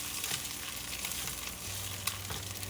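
French toast fries in a pan with a steady, even sizzle and faint crackle, close and moderately quiet, with no voices.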